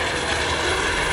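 A Eurocopter EC120B Colibri single-engine helicopter with a Turbomeca Arrius turbine gives a steady, loud, broadband turbine roar with an even rumble underneath, unbroken throughout.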